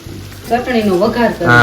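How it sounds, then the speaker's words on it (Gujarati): A tempering of hot oil sizzles for pav bhaji, a crackling hiss at close range, while a voice talks loudly over most of it. "સામે મમ્મી હવે તડકો મારે છે ભાજીનો"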